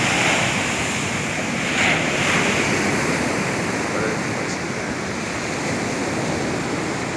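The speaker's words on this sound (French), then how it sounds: "البحر قوي هنا" Strong sea waves crash at the beach in Manakara, Madagascar, making a loud, continuous roar of surf with wind buffeting close to the microphone.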